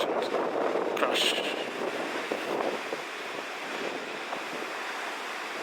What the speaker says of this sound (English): That is whooshing, that wave.